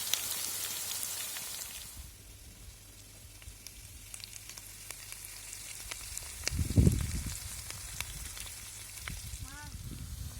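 Steady frying sizzle from a pan of chanterelle mushrooms, potatoes and pork belly, a soft continuous crackle with a brief stir or clatter partway through, close by and moderately quiet.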